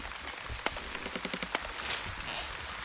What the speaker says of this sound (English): the clouds are just washing us with rain